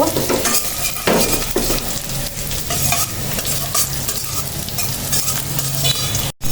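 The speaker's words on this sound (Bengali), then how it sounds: "সেমাইটা দিয়ে দিলাম সেমাইটা একটু মিশিয়ে নিব" Vermicelli frying in ghee and being stirred in a pan: a steady close sizzle with repeated scraping stir strokes throughout, loud and without voices, ending in a brief cut.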